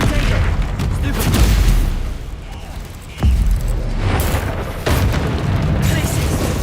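Confringo fire-blast spells exploding in Hogwarts Legacy, with repeated booming bursts from roughly a second to several seconds, loud and close over a dense mix of game noise and an excited voice.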